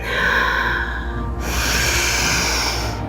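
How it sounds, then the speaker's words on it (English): A long, deep breath drawn and released during a slow vinyasa yoga flow, heard as a close, steady airy rush that changes character halfway through as the inhale turns to exhale. "Breathing in, breathing out, sink a little deeper."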